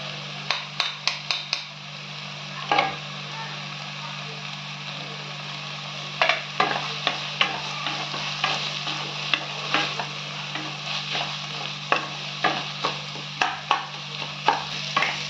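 Ground tomato paste sautés with a soft steady sizzle in a pan, with intermittent scraping and stirring clicks, close and continuous without talking.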